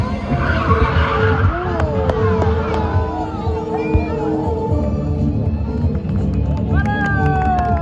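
Stunt car skidding hard through a high-speed U-turn at an outdoor stunt show in Nice, with tire screeches sweeping over steady engine roar and a crowd murmuring in the background.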